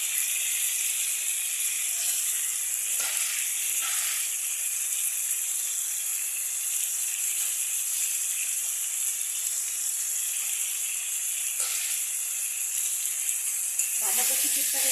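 Shredded cabbage hitting a hot pan of spiced oil for a fish-head cabbage ghonto, giving a steady, loud, bright sizzle that runs throughout, with a few brief dips and a clatter near the end.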